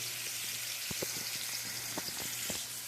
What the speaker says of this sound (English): I got my pork steaks browning up